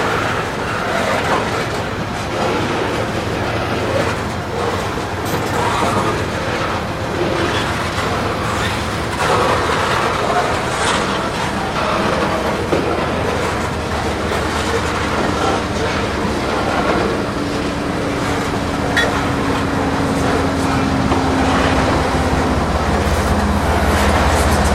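An ethanol freight train carrying a distributed power unit on its rear end rolls past near Tampa, a steady loud rumble of wagons with rhythmic clickety-clack and metallic squeals running continuously for the whole stretch, up close.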